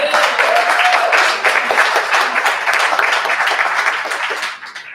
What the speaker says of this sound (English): y'all should give yourselves a round of applause for that